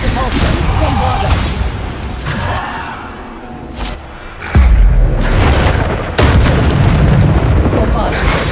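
Loud, repeated booms of Bombarda spell blasts in a Harry Potter video game, several heavy bursts in quick succession with a sharp, strong impact near the middle, while a voice talks over the battle.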